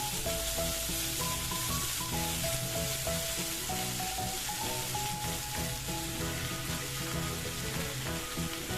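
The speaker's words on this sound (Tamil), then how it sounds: "அதனால் எண்ணெயிலே தான் வதக்கணும்" Eggplant sautés in oil with a continuous sizzle and crackle, steady throughout, while background music plays underneath.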